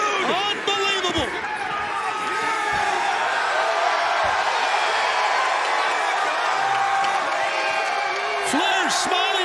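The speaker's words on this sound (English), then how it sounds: "listen to this crowd, it has come unglued" A wrestling arena crowd roars loudly and continuously at AEW Dynamite, with whoops and cheers layered through a dense wall of noise. Excited commentary runs over the top the whole time.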